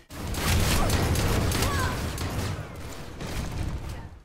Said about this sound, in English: it also has access to a 3-round burst that's going to double your rate of fire for those 3 shots